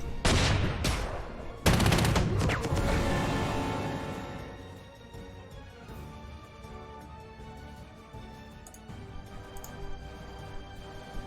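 Anti-tank gunfire in the Panzer Corps 2 wargame: several sharp loud gun reports in quick succession at the start, then a long decaying rumble and scattered fainter shots toward the end.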